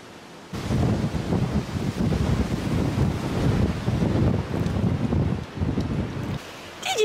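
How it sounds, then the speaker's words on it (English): Strong wind gusts by a stormy sea at Positano during a late-summer thunderstorm roar continuously across the microphone, buffeting and rumbling with surf beneath, loud and close, with no talking. "It's looking very windy out there."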